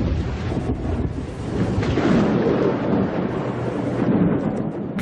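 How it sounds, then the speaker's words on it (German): Thunderstorm effect for a German documentary audio drama about Drusus and his legionaries in the Germanic forests: a continuous, loud roar of rumbling thunder with wind and rain, swelling and surging for the whole stretch with no voices. "Ein mächtiges Unwetter sollte Drusus und seine Legionäre zur Umkehr zwingen."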